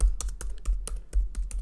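Fingers type on a computer keyboard in quick, fairly regular clicks, around a dozen distinct close keystrokes in under two seconds, with no talking.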